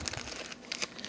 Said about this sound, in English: I have a couple of bracelets here in this plastic bag.